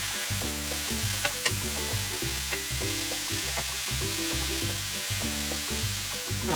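Grated courgette being stirred in a hot pan, a continuous sizzle broken by repeated scraping and clacking strokes of a utensil, close and steady with no talking.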